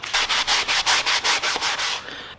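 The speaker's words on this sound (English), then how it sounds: "Just a quick sanding with 320." Repeated strokes of 320-grit sandpaper across a car seat frame from a square-body truck being reupholstered, about a dozen even, rhythmic rasps close to the mic, then stopping.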